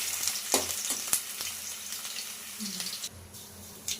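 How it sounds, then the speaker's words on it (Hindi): Potatoes frying in hot oil in a home kitchen, a continuous close sizzle broken by sharp spatter pops and a few stirring scrapes, with no one talking. "पहले मम्मी ने करे हैं आलू को फ्राई।"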